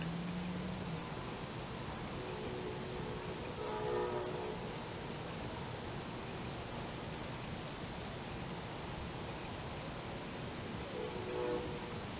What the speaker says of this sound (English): Nothing like a train.